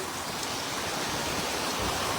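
Steady, dense hiss of heavy rain and hail pouring down, broadband and unbroken, with a faint dull thump near the end.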